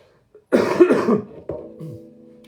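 A single harsh cough, close and loud, followed by a shorter throaty rasp as it trails off.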